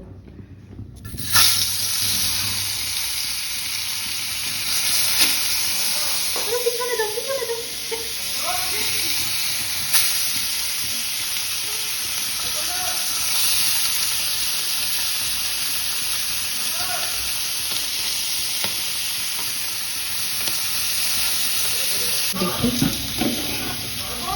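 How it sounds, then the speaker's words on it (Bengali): Marinated tilapia fries in hot oil with a steady, loud sizzling hiss that runs almost the whole time, with occasional crackles and stirring sounds. "তেলাপিয়া মাছ মেরিনেট করে রাখা অনেকক্ষণ ধরে এক ঘন্টার মতো এটা হচ্ছে এখন ভেজে ফেলবো"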